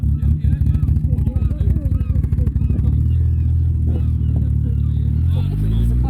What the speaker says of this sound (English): And I think there's a car coming in now.